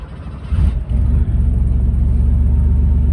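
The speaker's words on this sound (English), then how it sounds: "let's fire up this motor" A 1985 Porsche 911 Targa wide body with 87,000 miles starts up: a short crank, then the engine catches and settles into a loud, steady, low idle rumble.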